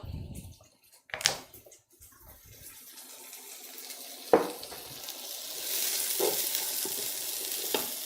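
Garlic cloves hit a hot pan in a home kitchen, setting off a soft, steady sizzle that grows and spreads after a few clattering knocks of utensils against the pan.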